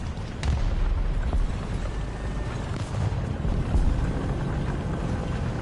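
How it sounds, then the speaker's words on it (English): Small Russian tank engine rumbling continuously in War Thunder, a steady low drone with occasional distant booms and wind, no talk over it. "I can hear the little Russian engine over here."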